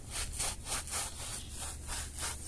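Scrubbing with a bar of coconut soap in a laundry area, heard as a rhythmic back-and-forth rasping of about nine close, loud strokes, with no talking.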